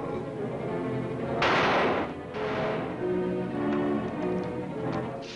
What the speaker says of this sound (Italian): Sono colpi di rivoltella.